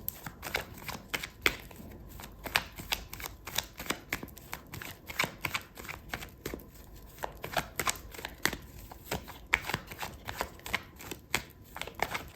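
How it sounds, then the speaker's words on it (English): A tarot card deck is shuffled steadily for about twelve seconds, a soft close riffling of quick papery flicks and slaps with no voices. "So let's clarify these cards,"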